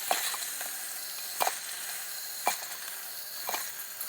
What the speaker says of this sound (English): I'm going to scoop out the lamb so that I have room to brown the beef